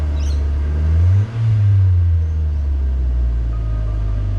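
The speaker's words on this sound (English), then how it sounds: "I wonder if I rev the car, if it actually puts more in" A car engine idles with a deep, steady rumble, then rises in a short rev that peaks and settles back to a consistent drone, close and loud.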